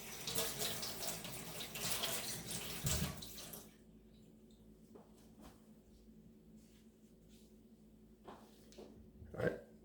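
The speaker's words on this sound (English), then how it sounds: "So I'm gonna go ahead and rinse my knife. And I'm gonna also rinse the green pepper really quick too." Tap water runs hard into a kitchen sink for nearly four seconds while a knife and a green pepper are rinsed, then stops, leaving faint clicks and small handling sounds.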